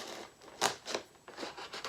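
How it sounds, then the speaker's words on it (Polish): Small scissors snip at the cardboard window of a Body Collection advent calendar. Several quiet, crisp cuts and crinkles come at irregular intervals, up close and with no talking. "Więc muszę się wspomagać nożyczkami."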